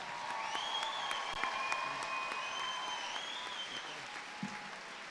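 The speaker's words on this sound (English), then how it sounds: "A round of applause for our baccalaureate graduates." A commencement crowd applauds baccalaureate graduates with sustained, even clapping and light cheering, while a faint whistling tone rises and falls above the applause.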